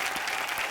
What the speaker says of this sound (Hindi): एक बार शान और राधिका के लिए जोरदार तालियां।